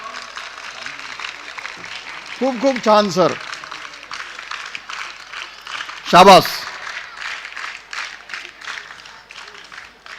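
An audience claps together in unison at an institutional celebration, in NCC style, a dense crackling patter running through the whole stretch while voices speak and call out over it.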